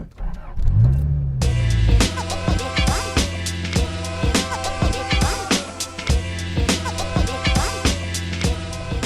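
A 1985 Toyota MR2 engine cranks and fires up, then revs and pulls away with rising and falling engine notes and gear changes, loud and close.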